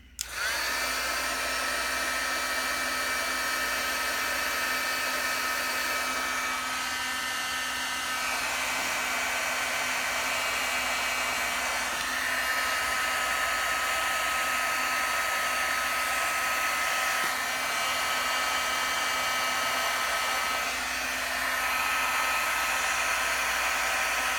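A heat tool or hair dryer blows steadily and loudly for about twenty-four seconds while drying ink on an embossed card, a constant close whirring hiss with no speech.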